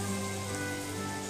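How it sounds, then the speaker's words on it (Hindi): Onions fry in hot oil with a soft, even crackling hiss, faint and continuous over a brief stretch with no voices. "ऑयल को गर्म करके इसके अंदर मैं ये प्याज डाल दूँगी और इसे सॉफ्ट होने तक फ्राई करूँगी।"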